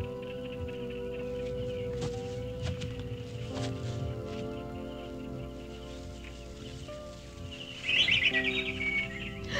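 Bright bird chirps over a steady background of music-like tones, with a louder burst of high twittering near the end.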